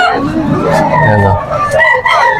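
A bullstag rooster crows at a bustling poultry market in Malolos, Bulacan, in a loud, drawn-out call close by, with murmuring voices and market clatter underneath.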